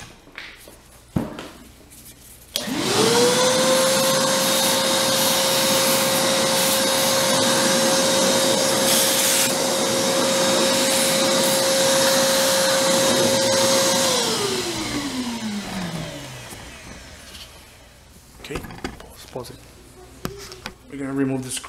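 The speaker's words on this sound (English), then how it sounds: "Vacuum that good?" A vacuum cleaner cleans inside a Mitsubishi DLP TV during a repair. It runs loud and steady for about eleven seconds with a sustained whine, then winds down, with brief handling noises before and after.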